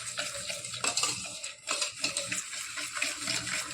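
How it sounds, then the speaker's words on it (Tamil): Hand whisking of batter sweetened with powdered sugar in a bowl, a steady run of quick metallic scraping and tapping strokes, close and fairly loud, with a brief pause partway through and no talking. "ஸோ இப்போ நான் இந்த விஸ்க்கு வச்சு நல்லா இது பீட் பண்ணி எடுத்துக்கிறேன்."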